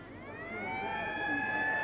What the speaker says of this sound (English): The half-time siren sounds